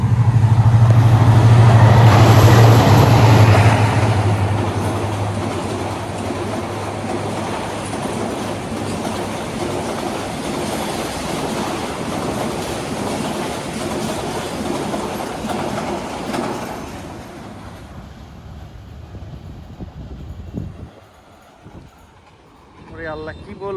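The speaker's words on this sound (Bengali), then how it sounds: "এত গতিতে মিটার গেজ ট্রেন যে যায়" A meter gauge train with a 29-series engine races past a rail gate between Jafarpur and Hi-Tech City stations, a loud close rumble with rattling wheels that fades away over about twenty seconds, followed by quiet.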